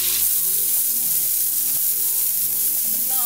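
Onions sizzle steadily in a frying pan in a camper van kitchen, a close, constant hiss with faint clinks of stirring and no talk.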